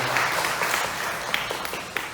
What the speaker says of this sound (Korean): 하나님 앞에 감사한 영광의 박수 한번 드리겠습니다